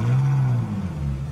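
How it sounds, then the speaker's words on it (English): A Ferrari 458 Italia V8 engine turns over and catches, settling into a low, steady idle rumble, close by and fairly loud. "let's fire it up."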